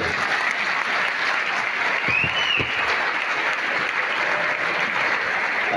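A large crowd at a Christmas cake cutting ceremony organized by Punjab University claps in steady, sustained applause, an even wash of clapping that holds at full strength from start to finish.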